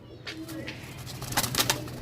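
Pigeons kept for a hobby and offered for sale give low, soft coos mixed with brief bursts of wing flapping, close by and fairly quiet over a steady background hum.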